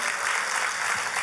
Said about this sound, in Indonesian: Boleh kita beri tepuk tangan yang paling meriah.